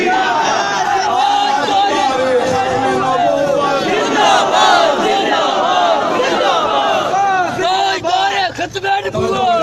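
A large crowd at a fervent religious-political rally in Mirpur, Azad Kashmir, roars slogans in loud, rolling unison, voices rising and falling in rhythmic waves throughout, close and continuous.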